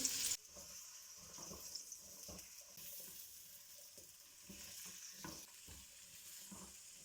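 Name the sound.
moringa roots frying in mustard oil in a wok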